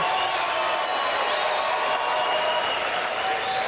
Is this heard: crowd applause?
yes